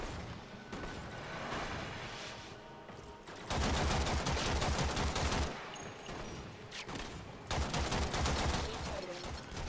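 Gunfire in the video game Warframe comes as loud, rapid automatic bursts in two long stretches with short pauses between them. The shots are close and dense, set against background game noise with no speech.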